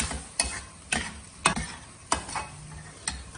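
Bhaji cooking in a pan, with a soft steady sizzle broken by about six sharp scraping stirs at a fairly even rhythm, close and moderately quiet, no voices.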